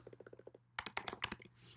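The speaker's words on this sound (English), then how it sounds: "So I'll just start typing that out, called cmds dot list relatives." Typing on a computer keyboard at a desk: a quick run of light, even keystrokes, then a louder burst of sharper clacks, close and alone over a faint steady hum.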